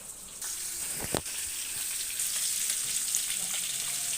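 Banana preparation frying on a stove, a continuous bright hiss of hot oil with a brief louder crackle early on, steady and close.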